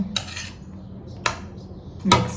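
Green onion-garlic chutney being mixed into rice with a metal spoon, producing three short scraping clinks against a plate with quiet gaps between them.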